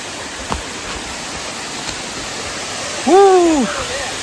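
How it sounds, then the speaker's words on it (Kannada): A waterfall roars as a constant broadband wash of rushing water in dense forest near Madikeri, with a brief voice rising over it near the end. "ನೋಡಿ ಫಾಲ್ಸ್"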